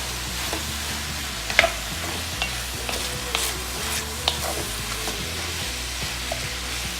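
Minced beef for cowboy chili sizzles steadily in a pan while a utensil stirs and scrapes through it, with occasional sharp clinks and pops close by and no talking.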